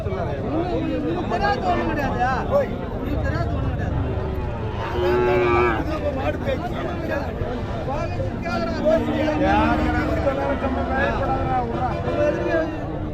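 Cattle, mostly young rearing calves, lowing and shuffling amid a busy livestock market in Madhapalli, with several people talking over a constant crowd murmur.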